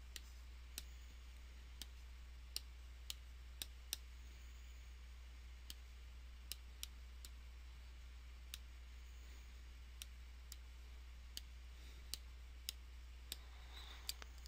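Button presses on a graphing calculator, entering a function at the Y= screen: small sharp clicks arriving at irregular intervals, faint and close, over a quiet steady hum with no talking.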